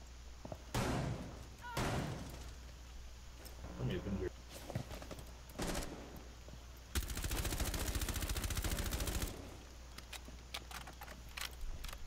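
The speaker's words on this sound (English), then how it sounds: "My shooting that wall probably did nothing." Gunfire hitting a wall in the tactical shooter Rainbow Six Siege, with a few scattered shots early and then a dense rapid burst of automatic fire lasting about two seconds, mixed with game sounds and players talking.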